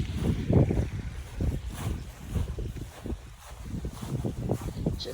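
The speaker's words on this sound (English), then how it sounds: "Water going through." Water flowing along the Appalachian Trail in Virginia: a steady, rumbling outdoor rush with gusty wind noise on the microphone, continuous for the whole stretch.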